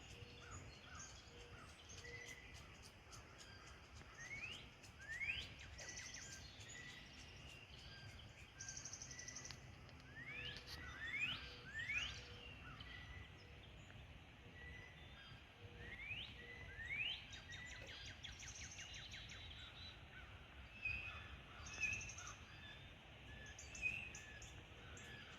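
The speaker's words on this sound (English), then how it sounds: "That's a cool call. I've been really enjoying all the birds." Several birds sing and call outdoors in a rural setting, with clear whistled phrases and chirps repeating at intervals over a soft, steady background of insects, fairly close and no talking.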